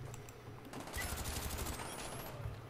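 A shotgun in Black Ops 1 on PC fires in quick, sharp blasts amid clattering game gunfire, loud and close over a couple of seconds.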